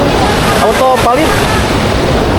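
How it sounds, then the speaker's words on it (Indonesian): A swift, heavy mountain river current rushes below a hiking trail near Ciwidey, a loud continuous roar with wind buffeting the microphone and a voice briefly speaking over it. "ke bawah arus sungai deras, sangat deras"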